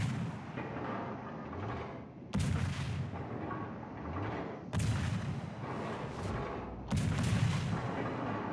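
Ship guns fire in a naval video game, with four heavy booming salvos spaced a couple of seconds apart. Each salvo hits as a loud broadband blast and rolls away over a constant background rumble.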